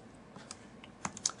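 Someone enters a math expression on a computer keyboard, making a few soft, quick key clicks that end in a short cluster. The typing is quiet and close, with no talking.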